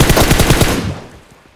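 In PUBG Mobile, a short burst of rapid automatic gunfire rings out loud and close, then fades into a decaying echo over about a second.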